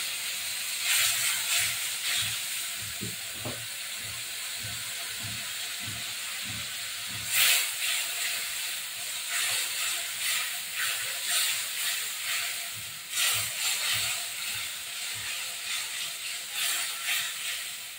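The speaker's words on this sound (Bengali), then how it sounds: "মশলাটা এখন এর মধ্যে দিয়ে দিচ্ছি, মশলাটা কষিয়ে নিচ্ছি।" Spice paste sizzling and frying in hot oil in a pan while being cooked down for an egg and potato curry, a steady hiss with intermittent scraping stirs, close and alone.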